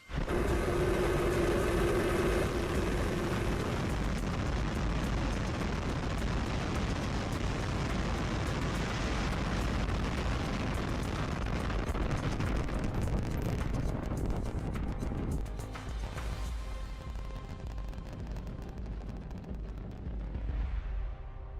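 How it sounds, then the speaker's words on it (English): A rocket lifts off on 33 Raptor engines, a massive, continuous roaring rumble that stays loud and dense throughout before slowly thinning toward the end, with no voices over it. "10, 9, 8, 7, 33 Raptor engines. 5, 4, 3, 2, 1. We have liftoff."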